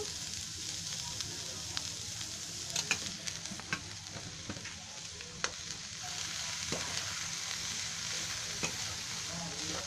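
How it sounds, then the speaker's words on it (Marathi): Shredded cabbage sautéing in a pan sizzles steadily with a soft, continuous frying hiss, broken by scattered light scraping ticks from stirring, close and fairly quiet. "ते मस्त असं कोबी आहे ना परतून घ्यायचा चांगला."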